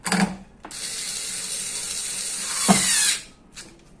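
Power driver tightening screws in a cross pattern on the hub motor of an electric bicycle during a repair, giving a short burst, then a sustained whirring drive of about two and a half seconds that ends in a click.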